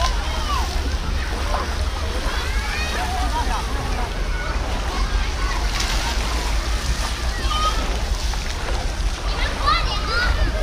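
Water splashes and sloshes steadily at a children's water park in Guangzhou with a slide at its center, a continuous wash of spray under a busy background of voices.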